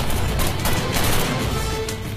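Rapid gunfire in a TV action drama, dense continuous bursts of shots with loud cracking reports overlapping throughout.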